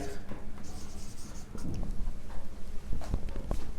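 Short scratchy strokes of hand writing trigonometry equations with a pen on paper, sounding close and at a moderate level, with a few sharper taps.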